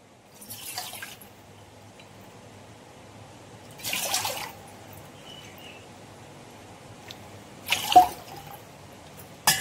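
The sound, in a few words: water being poured into a pot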